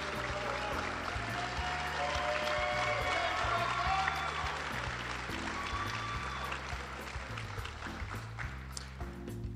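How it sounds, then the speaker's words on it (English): At a Teacher of the Year ceremony, a large audience gives sustained, dense clapping for division winners while a low musical tone plays underneath throughout. "If we could give another round of applause for all of our division winners"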